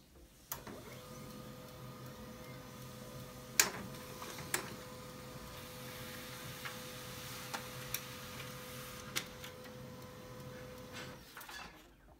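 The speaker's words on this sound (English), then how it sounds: "Now we want to print a test page." An HP LaserJet 1010 laser printer running off a test page, giving a steady low mechanical hum with a faint constant tone and scattered light ticks and clicks, heard alone at moderate distance for about eleven seconds.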